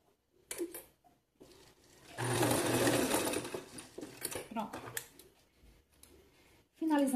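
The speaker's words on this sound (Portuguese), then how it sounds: "Finalizamos aqui na máquina" Sewing machine stitching a semi-cropped top with flared sleeves, with a loud run of rapid mechanical stitching in the middle, shorter clicks and handling noises around it, and someone talking nearby.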